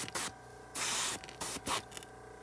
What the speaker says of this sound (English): You want to spray from multiple angles